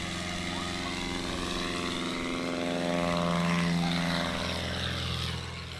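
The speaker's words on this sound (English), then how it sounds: "Kind of textbook tail dragger performance. Full throttle, get that tail up as soon as possible." A 1955 Cessna 180 taildragger takes off at full throttle, its propeller engine droning steadily and swelling louder as it passes fairly close, then easing slightly as it moves away.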